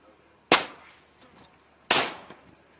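Two loud, sharp rifle reports from M40 and SASS sniper rifles firing at an outdoor range, spaced about a second and a half apart, each with a short echoing tail.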